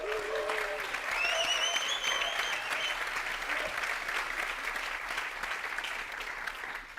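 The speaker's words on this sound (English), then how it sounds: "So maybe, Adrian, you can stand up so we can give you a round of applause." A conference audience gives a round of applause at a keynote event, a dense sustained wash of clapping that holds steady for several seconds with a few voices layered in near the start.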